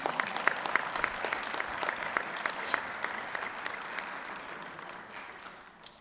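Audience applause at a school meeting, a steady wash of many hands clapping that holds for several seconds and slowly tapers off toward the end.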